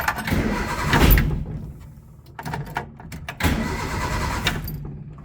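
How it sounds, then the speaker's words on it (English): A car engine cranks and catches with a loud burst, dips briefly, then a second crank and start follows before it settles into a rough idle, recorded close up with no speech. "let's just start the car"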